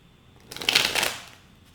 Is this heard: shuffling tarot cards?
yes